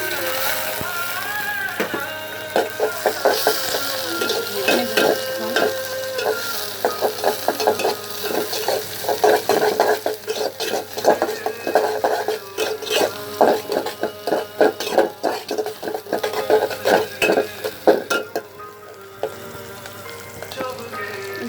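Prawns sizzle in a hot pan while a utensil stirs and scrapes them, making repeated rhythmic clatters over a steady crackle up close that quiets near the end, with no speech.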